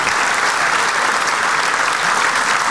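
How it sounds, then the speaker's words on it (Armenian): A studio audience claps loudly and evenly for a dance studio's performance on a Women's Club stage show, one dense, continuous burst of applause. "Մեր բարձր ծափարությունները ձեզ։"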